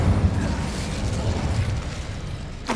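An Incendio fire spell bursts in Hogwarts Legacy on PS5, a dense rumbling whoosh with low booming weight that holds steady for a few seconds before a sharp flick at the end.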